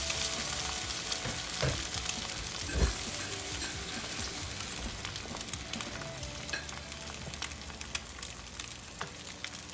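French toast fries in a pan with a continuous, close sizzle and crackle. Occasional sharper pops and small clatters break through the steady hiss, and no voices are heard.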